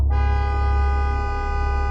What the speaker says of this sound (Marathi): अचानक कारचा हॉर्न स्वतःहून वाजला